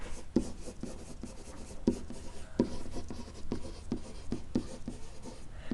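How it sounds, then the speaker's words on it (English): A marker or chalk scratches across a board in a series of short, rhythmic strokes, close and clear, with light squeaks and taps as letters are written out. "And I'll write out Pythagorean."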